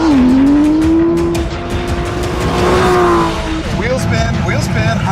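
Aston Martin V12 Vantage S with a 7-speed gearbox, accelerating hard with wheel spin at high speed: a loud, sustained engine howl holds a steady pitch and then climbs again, with tire noise and someone talking over it.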